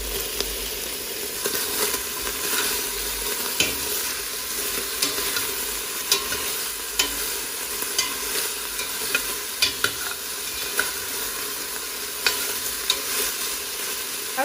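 Onions sizzle steadily in hot oil with meat for Uzbek plov, with occasional spoon or spatula scrapes and stirs punctuating the continuous frying hiss, close up and without talk.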